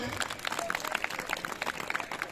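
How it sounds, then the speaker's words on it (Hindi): Audience applause at a 2023 Ramleela club closing ceremony in Billawar: a steady patter of many hands clapping through the whole stretch, with voices mixed in underneath. "उनके लिए भी जोरदार तालियां हो जाए"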